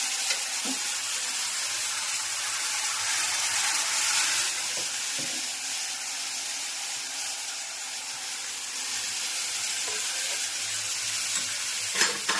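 A mung bean curry tempering of mustard seeds and cumin sizzles in hot oil, a steady, close, hissing fry running throughout with a few soft taps of a spoon.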